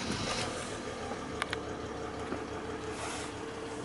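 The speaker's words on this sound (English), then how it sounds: "If I turn the engine over, we can hear it purring away." A Mercedes-Benz R-Class R350 CDI 4MATIC 3.0 diesel engine idles quietly at a steady, low hum, with a couple of faint clicks partway through and no talking.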